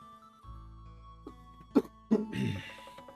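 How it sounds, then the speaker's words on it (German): A person coughs a few times in short, throaty bursts, close and fairly loud, over a quiet background hum with no talking. "Nicht wundern, wenn ich nebenher ein bisschen huste"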